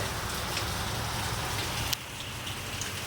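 Heavy rain pours down in a dense, continuous roar with strong wind, loud and unbroken apart from one brief dip midway.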